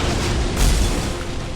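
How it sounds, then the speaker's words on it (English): A high explosive fire spell in the video game Fictorum blows apart several houses, a loud, dense boom that swells around the middle and rumbles on as a sustained, noisy roar. "High explosive just blew 3 houses up."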